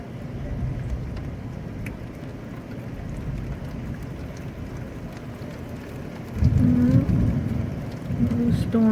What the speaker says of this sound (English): Little storm passing through.